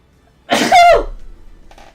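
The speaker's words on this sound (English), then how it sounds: "I'm even sneezing now." A single sharp, close sneeze from a man, a sudden burst that trails off into a breathy tail, followed by quiet.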